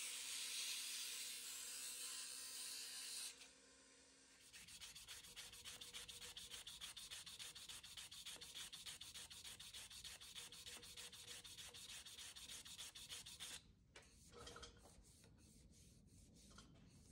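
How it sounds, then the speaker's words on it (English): Leopard wood spinning on a lathe is sanded with 80 grit sandpaper for a marking knife, a steady close abrasive rubbing with a fast rhythmic scratch that runs on and off for long stretches with no talk. "and get to sanding here"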